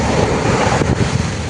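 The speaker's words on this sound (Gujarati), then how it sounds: "ચાલો ગાઈસ, તમને દેખાડું સોમનાથનો દરિયો" Sea waves wash onto the shore at Somnath in Gujarat, a continuous loud surging rush close by, heavily buffeted by wind across the microphone.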